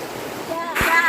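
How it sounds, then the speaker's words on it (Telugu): Fast-flowing stream water rushes over rocks on the Annamayya forest footpath to Tirumala, a close, continuous roar that swells toward the end, with a brief voice near the close. "చూడండి నీళ్ళు ఎంత ఫాస్ట్గా పరిగెత్తున్నాయి"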